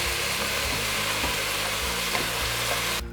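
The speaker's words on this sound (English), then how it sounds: "I'm going to add in some oil along with the ground beef" Ground beef frying in oil in a pot gives a steady, loud sizzle with light stirring scrapes throughout, cutting off abruptly at the end.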